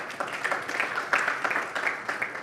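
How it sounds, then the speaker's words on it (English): An audience at a business forum on Indonesia-Pacific development gives a round of applause, moderately faint, steady overlapping claps with no talk over them. "Please give a round of applause to Mr. Justin."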